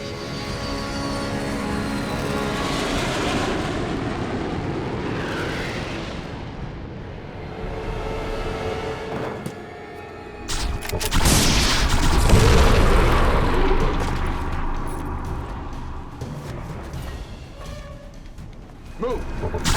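Bomb-run explosions in a sci-fi alien invasion naval war action film: heavy booming blasts and rumbling detonations rolling in waves, with a big impact near the middle and voices shouting amid the chaos.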